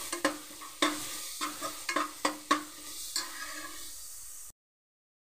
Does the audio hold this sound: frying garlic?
yes